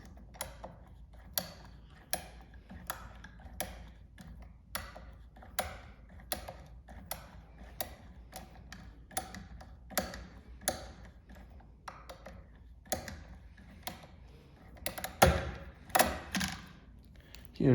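Luckylocks decoder turning inside a Juwel 3x3 lock makes a quiet run of close, crisp ticks and clicks at a roughly regular pace, with louder rattling clatter near the end.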